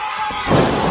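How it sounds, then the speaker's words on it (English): A wrestler's body slam onto the ring mat during a match, a loud broad thud bursting out midway and ringing briefly with crowd noise behind it. "There's the slam."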